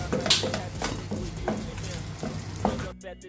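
Egg roast masala with chilli powder and pepper is stirred in a pan, giving a continuous close sizzle broken by rhythmic scraping strokes of a spoon against the metal, then a sudden stop.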